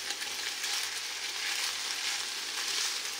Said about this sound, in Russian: Теперь добавляю чеснок и все хорошо перемешиваю